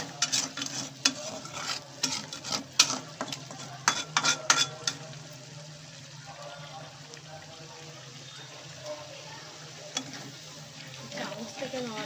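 Chicken pieces fry with softened onions in oil while a spoon stirs and scrapes the pan, producing bursts of clattering and sizzling early on that settle into a quieter steady sizzle.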